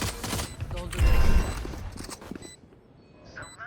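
Gunfire crackles through a tactical shooter match: several quick shots and a short burst stand out near the start, then fade as a player talks over the game sounds.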